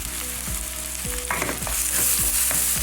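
Garlic, onions and tomato frying in a pan, a constant crackling sizzle with scraping stirring strokes in a regular rhythm.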